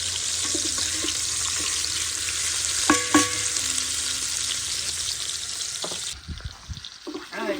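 A stuffed pig's stomach sizzles and fries steadily in a pan, a constant hiss with a few clinks of a utensil partway through; no one speaks.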